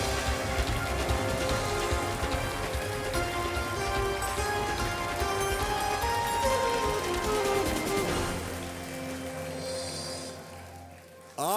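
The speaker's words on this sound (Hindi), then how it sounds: "तालियां बजती रहे देवी और सज्जनों।" Studio audience applause on a television quiz show, a dense, sustained wash of many hands clapping close by that holds steady before thinning out near the end.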